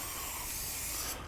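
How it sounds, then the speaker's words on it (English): A single quick burst of Pam cooking spray hisses onto peppers and onions on a plancha over a kettle grill, close and steady for about a second before stopping. "I always give it a little quick spray with"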